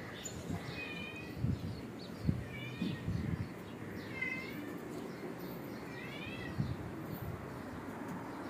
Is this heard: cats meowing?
yes